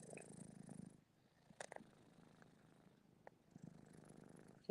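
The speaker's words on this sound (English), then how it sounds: "No, she just wants to purr." A cat purrs close by, quietly and in soft rhythmic rumbles. There is a brief pause in the middle, then the purring picks up again toward the end.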